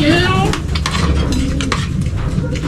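Plates and cutlery clink and clatter close by, with a steady sizzle of frying underneath.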